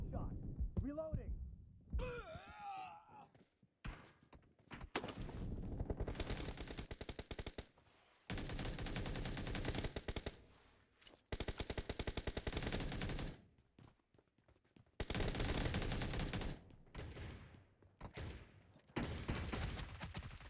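Bursts of automatic gunfire from the battle royale video game PUBG, loud and repeated in short volleys separated by brief gaps, with players talking over and between the shots.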